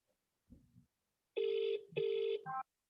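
A phone ringback tone sounds over a speaker, two steady electronic rings with a brief pause between, following a short faint murmur.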